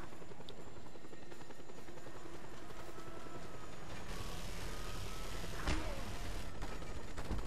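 Helicopter rotors thrum loudly and continuously in Just Cause 2, a close, steady chopping drone joined by mechanical clanks and a sharp impact near the end.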